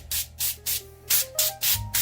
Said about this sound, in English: I just do a quick little spray